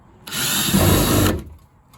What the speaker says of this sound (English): what I'm going to do is I am going to just drill right here